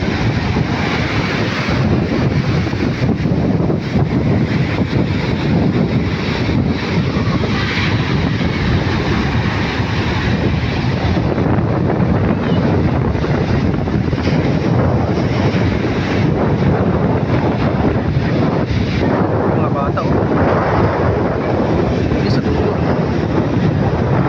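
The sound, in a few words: strong wind blowing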